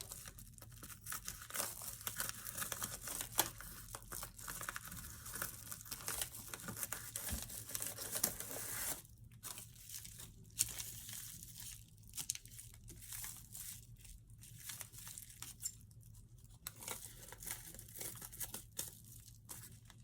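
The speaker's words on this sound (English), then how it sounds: "I'm going to work with the smaller scissors here." Small scissors snip through paper, trimming closely around printed words, giving a steady run of dry crisp cuts and rustling crinkles for about twenty seconds, close and fairly quiet, with no talking.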